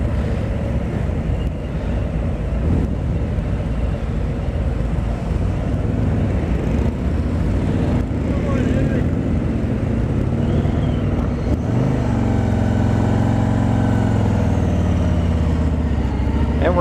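A 2020 Harley-Davidson Road Glide Special with a Milwaukee-Eight 114 engine on the move, giving a continuous loud low rumble mixed with heavy wind buffeting and a shift in engine tone near the end.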